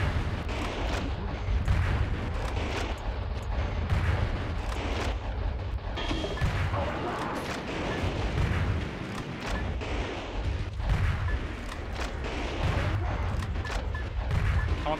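In the Metal Wolf Chaos video game, dense back-to-back grenade explosions and gunfire form a dense, continuous barrage of booms and rapid shots, loud and sustained for the whole stretch.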